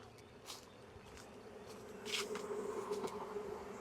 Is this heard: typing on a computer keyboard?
no